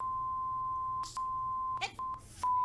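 A long steady censorship bleep tone from South Park, sustained and loud, broken by brief gaps where muffled voices cut through.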